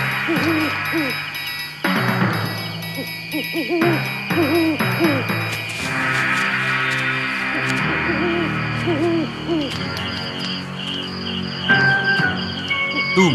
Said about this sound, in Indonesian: ada suara burung hantu